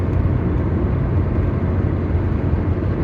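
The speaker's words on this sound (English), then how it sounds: "Excuse me, Mr. Truck." Road noise from a vehicle on a road near Athens, Georgia, with a truck going by: a steady low rumble and broadband roar that holds at an even level throughout, with no voices.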